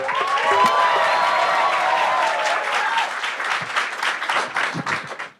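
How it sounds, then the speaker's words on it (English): A large comedy show audience claps and applauds steadily, dense and continuous, fading slightly toward the end. "And now, with a huge round of applause, please welcome on stage your only act for the evening, Kunal, Kamra."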